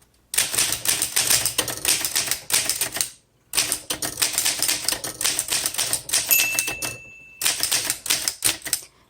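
A 1935 Woodstock 5 antique manual typewriter being typed on, with fast, loud clacking keystrokes in three bursts separated by short pauses, a faint bell-like ring near the end.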